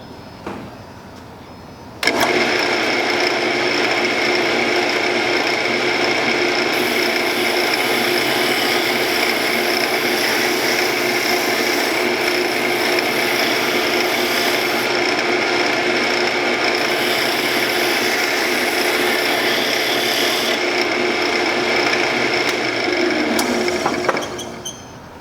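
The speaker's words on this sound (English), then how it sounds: "now we're going to see what a carbide tool does." A steady, loud mechanical whir with a gritty cutting hiss runs nearly unbroken as a carbide tool cuts wood on a spinning lathe.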